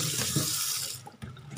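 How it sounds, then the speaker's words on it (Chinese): Running tap water streams into a sink as fresh garden vegetables are rinsed at the roots, a steady close splash through a brief moment. "把它这个根儿这儿洗一洗啊"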